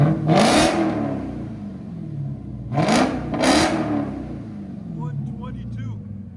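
A 2022 Dodge Charger SRT Hellcat with a 6.2L supercharged HEMI V8 revs three times nearby in loud rising and falling bursts, the last two close together, with voices talking near the end.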